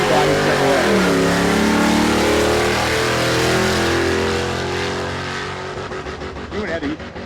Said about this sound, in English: the Nova is just absolutely up on the rev limiter at about 800 feet.